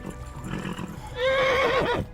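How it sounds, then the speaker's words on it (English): A horse in the medieval video game Kingdom Come: Deliverance gives a loud, close whinny with a wavering, falling pitch over about a second, following faint hoofbeats and background game sound. "My horse is not happy."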